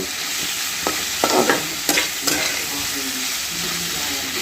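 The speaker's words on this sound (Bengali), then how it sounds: "এবারে দিয়ে এটাকে হালকা হাতে নেড়ে চেড়ে নেব।" Prawns frying in a pan for masala chingri, a steady broadband sizzle with a few sharper scraping stirs of a spatula near the middle, close and fairly loud throughout.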